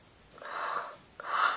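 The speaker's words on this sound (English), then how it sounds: "Is my breathing not horrible, for goodness sake?" Two heavy, loud, drawn-out breaths close to the microphone, each a rough gasping rush of air, with a short pause between.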